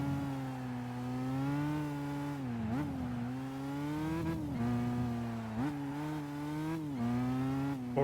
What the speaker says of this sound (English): We heard the car over here.